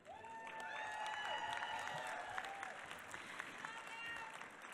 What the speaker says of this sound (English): a big applause to my staff